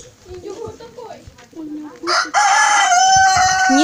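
A large turkey at a Cossack farmstead gives a sudden loud, harsh, warbling call in the second half, after quieter talk and scattered bird sounds close by.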